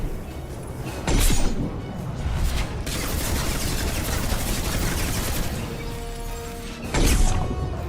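A charging enemy crashing through a table in Mass Effect 2, heavy impacts and smashing bursts near the start and end over a dense, loud stretch of combat noise.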